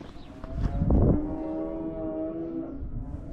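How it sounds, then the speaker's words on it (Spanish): A cow lets out a long, low moo in the French countryside, swelling near the start and trailing off over a few seconds, with faint rumble in the background. "para decirnos adiós es un recital de vacas"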